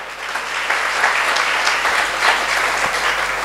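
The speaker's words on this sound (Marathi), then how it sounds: "जोरात टाळी वाजवा" A crowd at a Marathi devotional gathering claps loudly and steadily, dense applause sustained throughout with a few sharper individual claps standing out.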